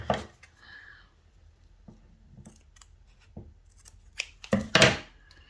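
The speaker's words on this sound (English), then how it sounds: "And then we'll cut off some string," Scissors snip through string or ribbon while making red packet fish decorations, with a few close, brief cutting sounds and a louder crisp snip near the end amid quiet handling noise.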